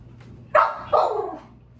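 A dog gives two sharp barks in quick succession, close and loud against a quiet room.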